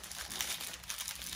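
A plastic bag wrapped around packaged liquid food crinkling close by, continuous soft rustling and crackling throughout.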